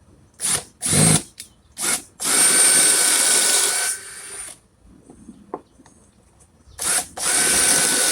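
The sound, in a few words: power drill drilling pocket holes in wood with jig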